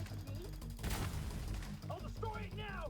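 A single heavy sniper rifle shot in the shooter The Division 2, a loud burst about a second in over a constant game backdrop, followed by chirping electronic effects.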